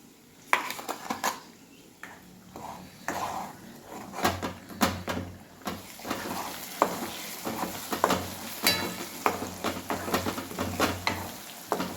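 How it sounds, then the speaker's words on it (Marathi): Paneer-dish gravy sautéing in a kadhai, with a low sizzle of frying under repeated clinks and scrapes of a spoon against the pan and some clatter of utensils, close and fairly steady throughout. "कढाईमध्ये आता आपल्याला ही गिरवी चांगली परतून घ्यायची आहे"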